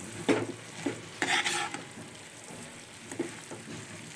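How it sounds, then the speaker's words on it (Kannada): A spoon stirs salt and vangibath powder through food in a hot pan, giving a few scraping strokes over a soft continuous sizzle. "ಇದೆಲ್ಲ ನೀಟಾಗಿ ಮಿಕ್ಸ್ ಮಾಡ್ಕೊಳ್ಳೋಣ."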